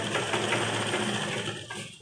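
A sewing machine runs steadily, stitching a double-folded half-inch hem on the sleeve of a round-neck nightie, a close, continuous mechanical whir that slows briefly near the end.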